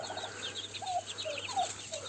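Turkey hens brooding their young poults in a coop, giving short, soft clucking calls repeated several times in quick succession, fairly close and quiet.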